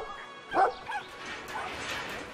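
A dog barks in the video game Brothers: A Tale of Two Sons, one loud yip-like bark near the start followed by a softer whimpering call over a quiet game ambience, with faint low speech.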